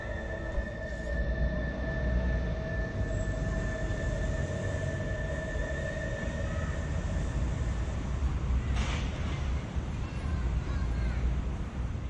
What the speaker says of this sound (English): A short subway ride took me to the Almagro district.